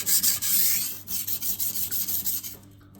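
Steel blade rasping across a Cheefarcut 400-grit sintered diamond stone in close, steady back-and-forth strokes, about a dozen scrapes with brief gaps, fading out at the end.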